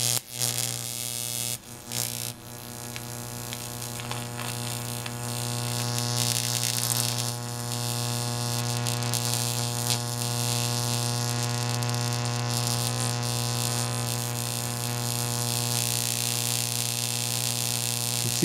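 A strong mains-frequency hum buzzes steadily as a metal oxide varistor heats under high voltage from a neon sign transformer, a dense harmonic drone with a few brief dips early on, then continuous and loud.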